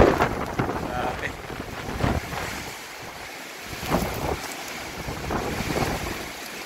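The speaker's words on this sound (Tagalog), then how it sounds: "hanggang ngayon grabe pa rin ang hangin, no, tsaka ulan" Strong gusting typhoon wind buffets the microphone with a broad rushing roar, surging and easing in waves, with a rain-like hiss underneath, during Typhoon Uwan in Daet.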